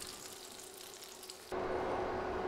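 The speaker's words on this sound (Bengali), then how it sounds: "এখন আমি নেড়ে নেড়ে 1 মিনিটের মতো ডিমগুলো ভেজে নিব।" Eggs frying in hot oil in a pan while being stirred, a steady sizzle that turns suddenly louder and denser partway through, with no voices.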